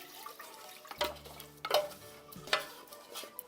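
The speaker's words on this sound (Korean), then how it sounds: "호박 끓인 냄비에 찹쌀 간 걸 바로 부어줍니다" Ground glutinous rice is poured into a pot of boiled pumpkin for pumpkin porridge, making a few soft, wet splashing and stirring sounds in a quiet kitchen, close and moderately loud, with no talking.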